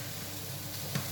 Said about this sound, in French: on va faire chauffer une poêle avec de l'huile de tournesol